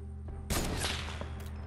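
A sudden loud gunshot burst rings out over a steady low hum in a video game, with a second smaller crack about a second later.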